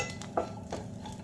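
Sliced coconut being dry-roasted in a pan, with a few faint, brief scrapes of stirring in a quiet kitchen.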